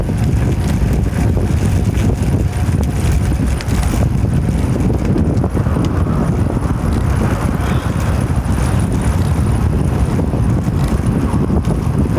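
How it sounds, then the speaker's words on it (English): Heavy wind roaring continuously across the microphone on a morning commute through a park, loud low buffeting with no pauses that covers all other sound. "the heavy wind, you get hit by stuff like this"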